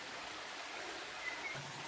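A river flows along the side of a waterfall, giving a soft, steady rushing wash of water with no voices, low and even throughout.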